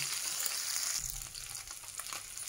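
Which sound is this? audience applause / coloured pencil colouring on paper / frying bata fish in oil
frying bata fish in oil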